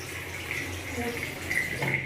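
A household tap runs with a steady, fairly quiet hiss of water splashing into a basin, heard close and without talk.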